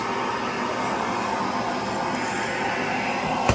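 Built-in floor sweep vacuum in a 2022 XLR 2815 toy hauler RV runs with a steady, loud broadband whoosh throughout, ending with a brief sharp click or thump near the close.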